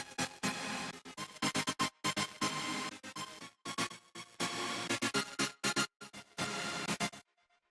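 Future bass chord synth built from wavetables, layered high and mid, playing bright stabbed and sustained chords in a choppy rhythm with gated pauses, loud and alone.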